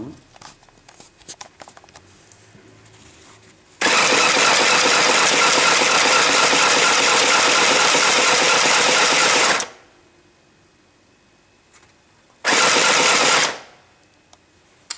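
A very small, pedal-operated sewing machine runs in two loud, steady bursts, a long run of about six seconds followed by a short second run, with quiet handling noise before and between them.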